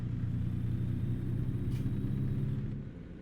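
An American truck with an aluminium double flatbed, driven in the game American Truck Simulator: a deep, steady diesel engine rumble close up, easing off and fading in the last half second.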